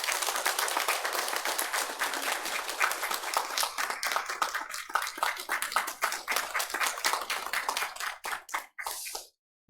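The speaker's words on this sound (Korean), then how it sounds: "뜨겁게 박수하도록 하겠습니다." A church congregation claps warmly in sustained, dense applause that thins into scattered individual claps before stopping abruptly near the end.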